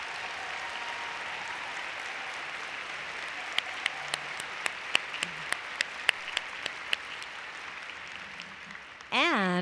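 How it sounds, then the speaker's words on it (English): An audience at a women's achievement awards program gives a final round of applause for award winners, a steady wash of crowd clapping with several sharp, close individual claps standing out, ending with a sudden voice at the close. "let's give one final round of applause to all of our award winners"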